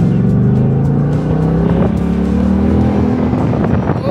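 A Ford Mustang GT500 convertible engine roars loudly and steadily as it accelerates, its rising tone close and continuous with no talk over it.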